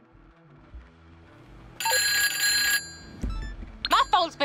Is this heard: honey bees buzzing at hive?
no